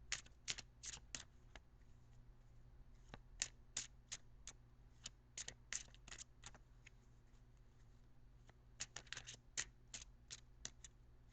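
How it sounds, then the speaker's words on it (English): Tarot cards are shuffled by hand in quick, crisp bursts of riffling clicks with short pauses between, close and quiet over a low steady hum, no talking. "I am now going to shuffle for a few seconds more."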